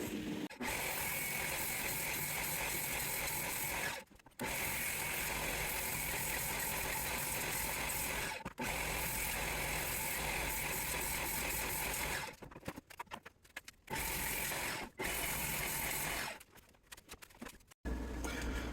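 A power drill drives 6-inch structural screws into wood for a floating wall shelf, loud sustained whirring runs broken by short pauses, ending in several quick stop-start bursts.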